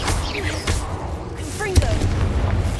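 A fiery Incendio spell cast in the Hogwarts Legacy video game, a rushing whoosh with a quick thump, heard among busy combat sounds and layered effects.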